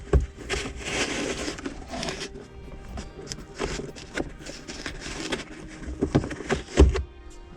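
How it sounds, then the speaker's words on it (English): Soft rubbing, scraping and plastic creaks come from inside a 2020 Ford Mustang as a dash cam wire is pushed up behind the headliner. The sounds are close, uneven and fairly quiet, with a few sharper clicks. "just pull it down and tuck that wire up back behind there."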